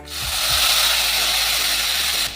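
Spice paste tipped into hot oil tempered with bay leaf, cumin and radhuni for a Bengali rohu fish curry, a sudden loud hissing sizzle that holds steadily before cutting off.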